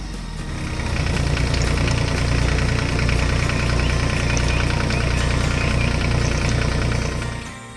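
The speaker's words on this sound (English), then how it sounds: "The blue tractor is doing a wonderful job sweeping the floor." A small blue tractor sweeps the floor at a beach pool construction site, its engine idling with a steady, loud, knocking rumble that holds evenly for several seconds before easing off.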